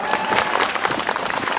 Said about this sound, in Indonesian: Tepuk tangan buat Mas Anto.